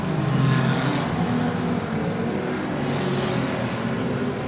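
Stock cars racing in a heat at Oceanview: a steady, loud roar of several engines on track, with no audible speech.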